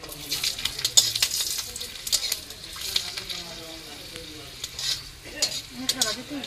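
Dried chillies and garlic frying in hot mustard oil, with a steady crackling sizzle and occasional stirring scrapes in the pan, close and fairly loud, with some faint voice-like tones near the end.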